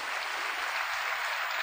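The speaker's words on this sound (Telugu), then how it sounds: "గట్టిగా చప్పట్లు కొట్టండి" An audience at a Christian gathering claps together, a dense, steady wash of applause lasting under two seconds, moderately loud with no voices over it.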